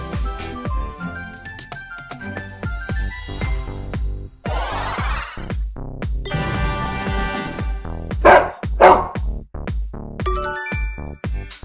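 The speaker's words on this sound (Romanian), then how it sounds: "Este un câine!" Several short dog barks and yips ring out in a busy children's animal-sound guessing clip, punctuated by bright dings, jingles and percussive music hits throughout.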